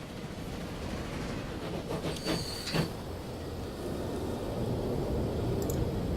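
A passenger train pulls out of a busy station in the Transport Fever game, a steady rolling rumble with a few brief metallic clanks and squeals partway through, heard with no talking.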